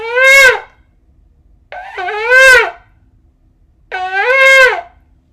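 Three short blasts on a ram's horn shofar, each a wavering rising-and-falling tone about half a second long with pauses between them, loud and close against silence.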